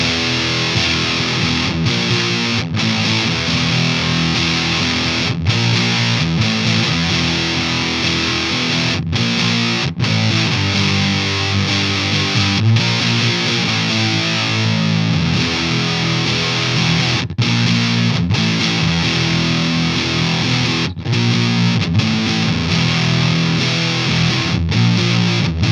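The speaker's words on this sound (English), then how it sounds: "that was the all pedal Love Fuzz, really thick stoner doom style tones from single coil pickups" Squier Paranormal Cabronita thinline Telecaster with single-coil pickups played through a Love Fuzz pedal, giving thick stoner doom fuzz tones; loud, sustained distorted chords ring steadily with brief gaps between strums, alone without talk.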